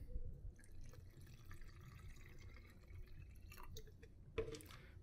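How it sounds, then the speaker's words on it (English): Deionized water runs into a reagent bottle for a chlorine analyzer until it is about half full, a soft, steady trickling and dripping pour close by with a brief sharper splash near the end. "We'll take our DI water and we'll fill the bottle about halfway."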